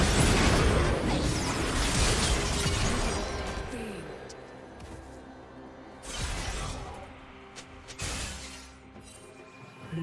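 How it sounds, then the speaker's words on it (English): Turret destruction explosion in the League of Legends video game: a loud, dense crashing burst that fills the first few seconds and then fades, followed by two shorter, sharper bangs near the end. "Red team's turret has been destroyed."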